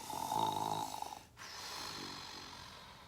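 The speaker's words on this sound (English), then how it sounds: "Can you snore again?" A person snoring close by, one long buzzing rattling inhale that fades, a short pause, then a softer breathy exhale.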